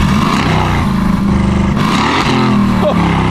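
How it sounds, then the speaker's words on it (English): A straight-piped 2019 Aston Martin Vantage revs in sport mode, a loud, raspy engine note climbing and falling through a couple of quick blips up close. "Let's get a few revs in sport."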